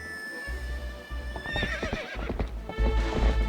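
In Zelda: Twilight Princess HD, a horse whinnies loudly and close by while its hooves clip-clop in quick, uneven steps beneath the call.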